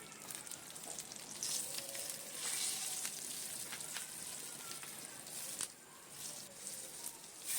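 Slit whole green chillies crackle in a hot oil tempering for Gujarati khaman dhokla, a continuous soft hiss with scattered pops and a couple of louder bursts. No voices.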